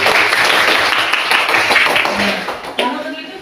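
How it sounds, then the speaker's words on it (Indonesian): A classroom of students claps for all the groups, a brisk burst of many hands applauding together that thins out toward the end, with voices talking over it. "tepuk tangan untuk semua kelompok"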